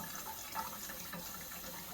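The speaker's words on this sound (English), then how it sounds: "put about half a gallon of water down through it" About half a gallon of water pouring steadily down a laundry drain pipe, a continuous hissing gush with faint gurgles, fairly quiet and alone.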